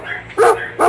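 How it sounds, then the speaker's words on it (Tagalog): A neighbor's dog barks twice in quick succession, two loud, close bursts about half a second apart with a faint background between them. "pasensya na rin doon sa aso ng kapitbahay namin, maingay eh"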